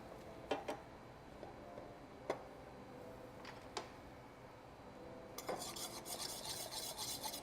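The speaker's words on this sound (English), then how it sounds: "You want to whisk while you add it, again, to avoid creating lumps." A whisk taps faintly against a pan while milk goes in for a sweet lemon ricotta soufflé base: sparse, soft metallic clicks, then steadier, busier scraping over the last two seconds, with no talking.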